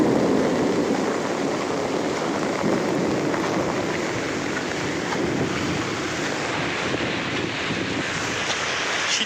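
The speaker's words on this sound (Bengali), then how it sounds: "এই যে দেখো এখনও শিলা পড়ছে" Hailstones and heavy rain pour down during a Kalbaishakhi storm, a dense, steady outdoor roar with wind buffeting the microphone throughout.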